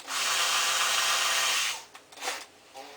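A Makita power drill bores a small hole in plastic with a close, loud, steady whir for under two seconds, then stops, followed by brief rubbing and handling noises.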